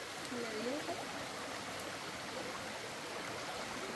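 River water flowing steadily as a constant broadband rush, with a faint voice-like tone briefly near the start.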